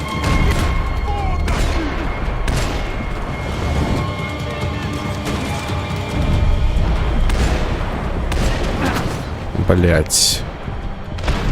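A shotgun fires buckshot in the video game Max Payne 3, with a series of heavy, booming blasts at irregular intervals amid game noise, and a man swears briefly.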